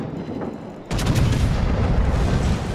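A battleship's front guns fire in World of Warships, one heavy booming salvo that hits abruptly after a quieter stretch and leaves a long rumbling roar.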